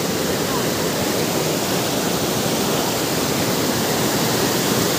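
Powerful waterfall roaring steadily up close, a dense full-band rush of water with no breaks and no voices.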